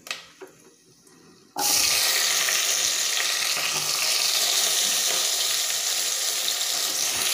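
Onions hit hot oil in a pan for coconut milk rice, bursting into a loud, steady sizzle after a quiet moment of faint clinks, then crackling on evenly without any talk.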